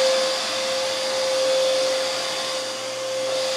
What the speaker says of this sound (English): Recommend wearing earplugs. This thing is loud,